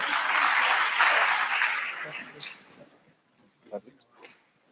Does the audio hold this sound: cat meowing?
no